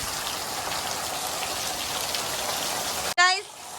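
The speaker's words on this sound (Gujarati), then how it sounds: "અમારા ગામમાં એટલો વરસાદ પડી ગયો" Steady, dense rain pours down without a break, a loud hiss close by, then cuts off sharply near the end with a brief squeaky sound.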